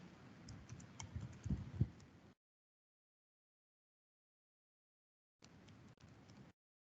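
A computer keyboard is typed on in two bursts of quick, close clicking during a financial management lecture, with a silent gap between them.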